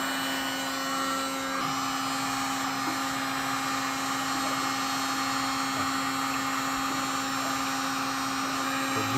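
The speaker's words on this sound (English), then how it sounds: "So Nicole is just heating it up and just scraping it away." Heat gun blowing a steady, loud, unbroken whine while body filler is heated and scraped off the fender of a 1994 Mazda Miata NA, continuous and close throughout with no talk.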